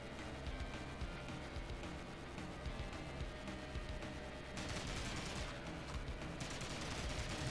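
Gunfire from large guns in the video game Odd Jobs, a dense, continuous barrage of rapid shots that keeps up for the whole stretch and grows slightly heavier toward the end, with no talk.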